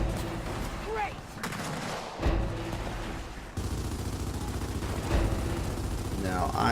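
Weapons fire in the shooter Gears of War 4 during an Escalation match, heavy repeated shots and booming blasts over a busy battlefield din, loud and close, with a few sharp breaks between volleys.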